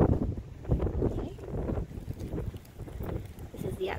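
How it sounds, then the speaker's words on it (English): Strong gusty wind blusters outdoors beside a house, buffeting the microphone with uneven rumbling surges and brief lulls over several seconds. "Very windy today."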